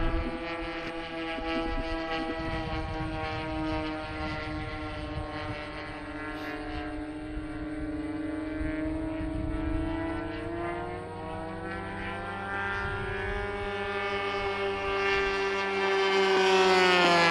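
A Tiger 30 Ultra Sport engine runs at half throttle, a loud, continuous droning whine whose pitch wavers and slowly climbs toward the end.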